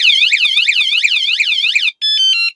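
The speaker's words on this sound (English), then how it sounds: "So this is the siren, right?" Loud electronic van security alarm siren wailing in rapid rising sweeps, then switching to a steady piercing two-tone beep before cutting off.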